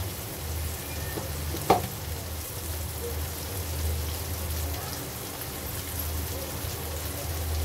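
Green chillies hit a hot pan in a home kitchen and sizzle steadily, a close, continuous crackling hiss that runs unbroken with one brief sharper clatter near the start.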